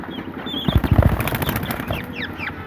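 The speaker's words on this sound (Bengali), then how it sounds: "এখানে দুই জাতের কোয়েল আছে, একটা হচ্ছে জাপানি কোয়েল আর আরেকটা হচ্ছে দেশি কোয়েল" Japanese and native quails call from a pen nearby, with busy clucking, chirps and rapid rising whistles, and a short flurry of wing flaps in the middle, all fairly loud and close.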